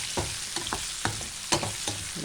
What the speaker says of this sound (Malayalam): അതിലിട്ട് നന്നായിട്ടൊന്ന് മൂപ്പിച്ചെടുക്കാം.